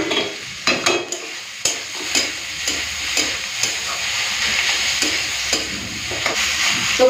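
A spatula stirs and chops radish frying with prawns and chopped coriander in a pan, steady oil sizzle under a run of sharp, irregular scraping taps close by, with no voices.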